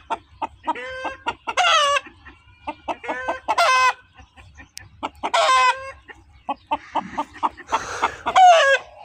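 A rooster crows loudly several times while chickens cluck around it. The crows come in long bursts between shorter clucks, close and clear over a quiet farmyard background.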